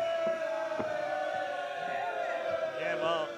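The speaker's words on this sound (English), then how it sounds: "As the crowd approves." A wrestling crowd at Kobe Sanbo Hall keeps up a steady roar of cheering and shouting, with rising voices and whoops near the end under continuous noise.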